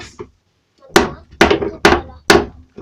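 Hammer striking wood during repairs to a cabin, one light tap followed by four loud, evenly spaced blows close by.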